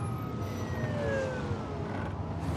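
A police car siren from The Last of Us TV series wails in falling and rising tones at a moderate distance over a low, steady rumble of traffic or background score.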